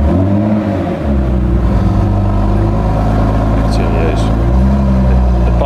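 Deep, steady engine roar of a new Ford GT as it is revved, sustained and loud throughout, with a brief dip near the start and people talking over it.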